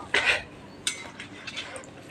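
A metal spoon knocks against dishes: two sharp clinks close together, then a scattering of lighter taps and rattles in a quiet room.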